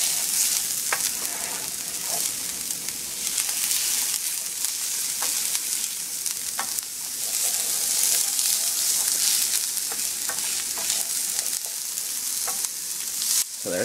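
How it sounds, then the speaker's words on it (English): Food is stirred in a sizzling pan for a Spanish dish, a steady fry hiss running throughout with soft scraping strokes and occasional clicks of the utensil against the pan. "Okay, now let's stir that up."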